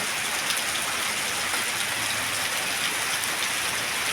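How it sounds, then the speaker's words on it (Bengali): Heavy pouring rain in a steady, dense hiss with no breaks, loud and close, flooding the streets outside. "প্রচুর বৃষ্টি, প্রচুর।"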